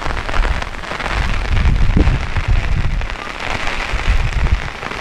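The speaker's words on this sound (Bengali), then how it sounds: "বৃষ্টির সাউন্ডটা নিশ্চয়ই তোমরা শুনতে পাচ্ছ।" Heavy rain pours steadily outdoors near an open playing field during Cyclone Remal, a dense, continuous roar of drops on surfaces with gusty swells in loudness and no talking.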